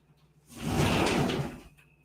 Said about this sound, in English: Might open this door a bit.